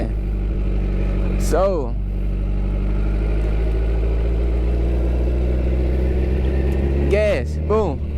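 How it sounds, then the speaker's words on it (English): A motorcycle engine runs at a steady idle through the clip, with two brief rising revs near the start and again near the end, under a man's speech. "The higher the bike is sounding, the higher RPMs you're"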